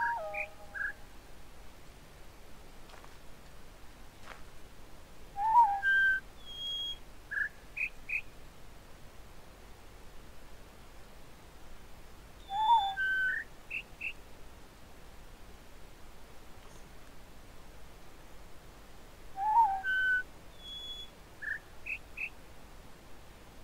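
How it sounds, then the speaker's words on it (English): Short melodic whistle-like tonal phrases from the puzzle video game The Witness, repeating about three times at even intervals over a quiet hiss, each phrase ending on a longer held note, with no speech. "the whistle has the long note at the end"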